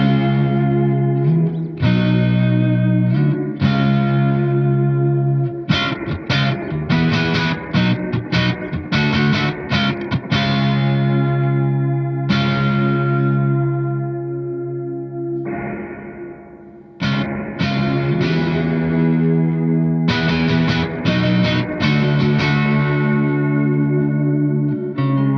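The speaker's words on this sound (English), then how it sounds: "It's like a chorus, like a dull kind of chorus modulated reverb thing." Electric guitar played through a Walrus Audio R1 stereo reverb pedal on a chorus-modulated reverb preset, with repeated strummed chords and lush, wavering tails that swell and fade, loud and alone without talk.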